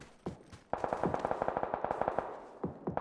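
Gunfire in the battle-royale game PUBG: a couple of isolated shots, then a long rapid automatic burst of evenly spaced cracks, moderately loud and a little distant, with a few trailing single shots and no talking.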